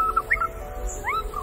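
Regent honeyeater song, a critically endangered Australian bird, heard as a few short sweet chirps and upward-sliding whistled notes at moderate distance over a low steady background hum.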